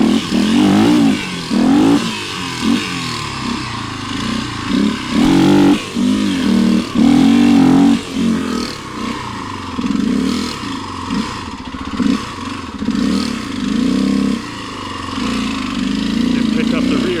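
Motorcycle engine revving in repeated bursts and dropping back to a rough idle, loud and close, while someone talks over it at times.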